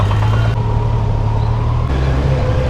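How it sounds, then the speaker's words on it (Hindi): A Kawasaki Z900 motorcycle sits in a traffic jam; a steady, loud low rumble of engines and road traffic fills the scene without a break, with no voices. "यह है हमारे दिनचर्या का अभिन्न अंग, ट्रैफिक जाम।"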